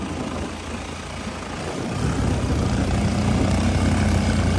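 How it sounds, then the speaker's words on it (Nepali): Motorcycle engines roar loud and close, one in front and one behind, a steady droning rumble that swells in volume partway through, with no talk over it. "केटाहरूले अगाडिबाट नि बाइक पड्काइरह पछाडिबाट नि बाइक पड्काइरह"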